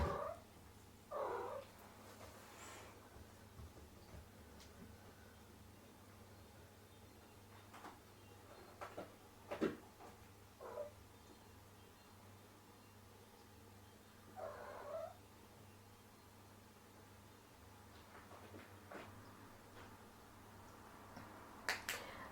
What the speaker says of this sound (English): It's the cat.